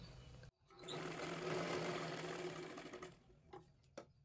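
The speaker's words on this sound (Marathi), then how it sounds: "त्याच्यावरतीच आपल्याला अजून एक शिलाई मारायची, जेणेकरून ते पूर्ण पॅक होऊन जाईल" A sewing machine runs steadily, stitching tucks on a size 40 katori blouse, a continuous close whirring hum for about two and a half seconds after a short pause, then a few brief clicks and stops.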